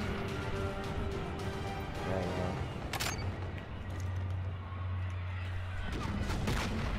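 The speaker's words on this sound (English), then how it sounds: "I shot a 2 grenade, right?" Grenade blasts and gunfire in Call of Duty: Infinite Warfare multiplayer, booming low impacts with sharp cracks under a constant low drone, including one bright crack midway, all fairly loud.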